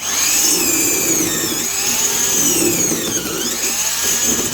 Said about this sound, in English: This whole drill just has a really nice, quiet, smooth sound.